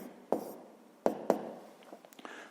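A pen writing out a math solution on paper, soft scratchy strokes with three sharp taps as the tip meets the page, then a few lighter marks, faint and close, with no talking.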